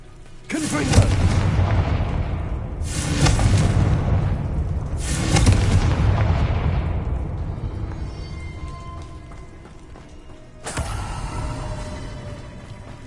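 Explosive blasts from the Confringo spell in Hogwarts Legacy, four loud booming bursts spaced a few seconds apart, each trailing off in a long rumbling decay.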